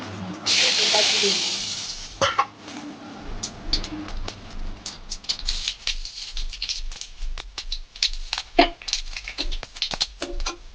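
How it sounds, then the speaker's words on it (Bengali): Dried red chillies and bay leaves hit hot oil in a pan for a prawn and taro dish, with a loud burst of sizzling at first that settles into steady crackling and popping. "শুকনো লঙ্কা দেবো, তেজপাতা দেবো তেলের উপরে"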